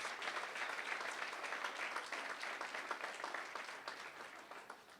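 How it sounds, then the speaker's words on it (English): A faint, steady wash of many hands applauding fills a university sports awards gala, with a continuous even clatter and no pauses. "Let's give Jane a round of applause."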